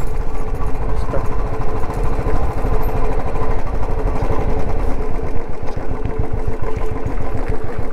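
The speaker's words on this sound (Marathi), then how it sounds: "हे इंजिन ब्रेकिंग करायची" A Royal Enfield Bullet motorcycle engine-braking downhill on a ghat road gives a steady, loud, rapid thumping beat with a rough low rumble throughout.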